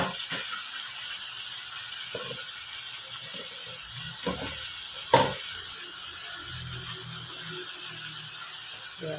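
Bean sprouts sizzling as they are sautéed in a pan, a steady frying hiss throughout with a few clanks and stirring scrapes breaking through.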